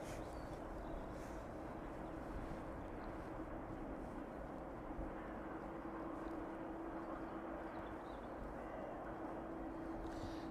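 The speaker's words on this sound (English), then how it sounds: "The Maersk 767 turning on to final now for runway 27, making that right hand turn" A Maersk Boeing 767 turning onto final approach for runway 27 at East Midlands airport, heard as a faint, distant, steady jet rumble with a low droning hum and no clear peaks.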